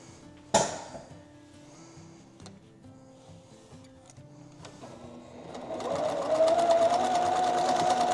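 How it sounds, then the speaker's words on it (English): A sewing machine stitches quilt rows together for a flag quilt, starting as a steady mechanical whirr that builds and runs continuously after a sharp knock near the start. "now we're gonna sew these rows together"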